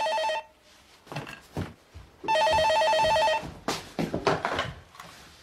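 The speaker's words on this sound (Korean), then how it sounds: "전화 왔다." An old-style telephone bell rings loudly indoors in two bursts, then people talk nearby as the call is picked up.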